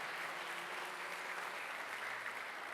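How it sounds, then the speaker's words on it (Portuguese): A church congregation claps steadily as a dense, even wash of applause at moderate level, with no voices breaking through. "Vamos aplaudir a vida da Carol"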